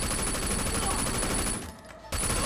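Sustained automatic weapon fire in the game Sleeping Dogs, a steady rattling stream of rapid shots that briefly drops away and then resumes, loud and continuous.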